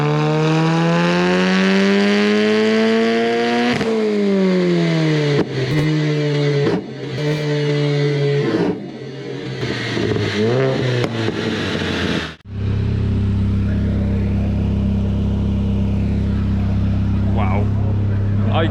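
A Seat Leon engine revs hard on a dyno, rising pitch in long pulls with gear-like steps and a loud sustained wail, then dropping into a deep steady idle drone near the end.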